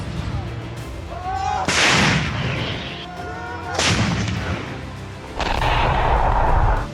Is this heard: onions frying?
no